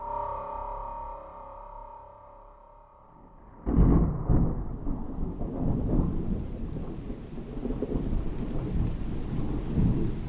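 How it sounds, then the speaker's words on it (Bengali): Heavy rain pours down in a thunderstorm, with a loud thunderclap breaking in after a few seconds of quieter tonal sound, then dense rain and rumbling that fill the rest of the scene. "সেদিনের দুপুরের পর থেকে বজ্রপাত সহ তুমুল বৃষ্টি নামল।"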